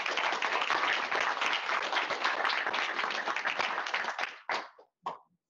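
An audience at an agriculture and food sector talk applauds three speakers, dense steady clapping for about four seconds before tapering into a few scattered final claps.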